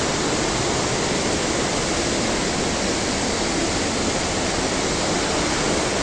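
Water pours over Palawan falls in a strong current, making a loud, constant, unbroken roar with no other sounds.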